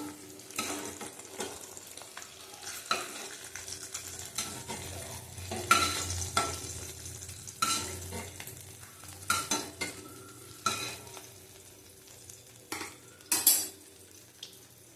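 Fried eggs lifted one by one out of hot oil in a pan for egg curry, with gentle sizzling, soft scraping and light metal utensil clinks spread across the stretch, no voices.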